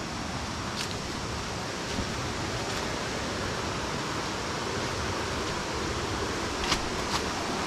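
Steady broadband rush of a waterfall in Khao Sok National Park, Thailand, a continuous even roar with no voices and no breaks.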